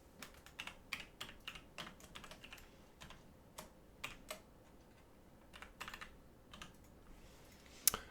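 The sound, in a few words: typing on a computer keyboard into Desmos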